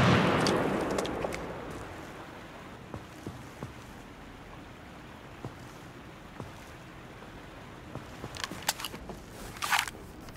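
A frag grenade explodes in the video game America's Army with a loud, booming burst that decays into a rumbling tail, followed by scattered faint clicks and a few later clattering impacts.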